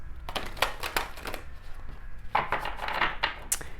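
Tarot cards are shuffled by hand in quick riffling bursts, close and crisp, separated by short pauses and faint background noise.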